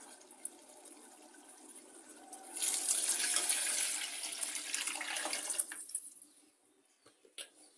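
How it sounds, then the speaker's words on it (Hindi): Water pours in a steady splashing stream into a cooking pot for about three seconds, then trails off into drips and small clinks of the pot. "अब मैं इसमें डालूंगी पानी"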